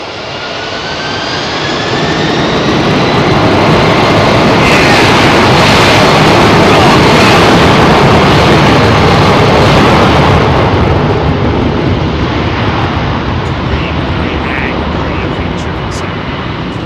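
A jet airliner's engines roar at London Heathrow Airport, swelling from a quieter start into a loud, sustained broadband rumble with a whining tone that slowly fades toward the end.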